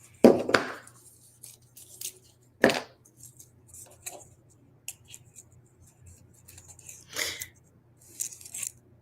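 Scissors snip a fresh length of Soft Flex beading wire at a bead-crafting table, giving a few sharp, close clicks and snaps separated by quiet pauses and light handling noises.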